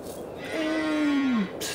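A friendly Jersey dairy cow gives one drawn-out moo that slides downward in pitch, fairly close and clear against quiet farm surroundings.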